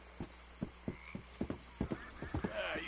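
Horse hooves clip-clopping in Red Dead Redemption 2, a steady run of distinct, fairly faint hoofbeats at an even walking pace, with a soft rustle rising near the end.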